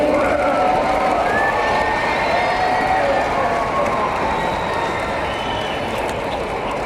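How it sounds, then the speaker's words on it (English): A crowd at an outdoor Peace Day rally applauds and cheers for Master Kim and the Counselor Corps. The clapping is steady and dense, mixed with scattered shouts, and holds at an even loudness throughout. "Let's give a round of applause to Master Kim and the Counselor Corps."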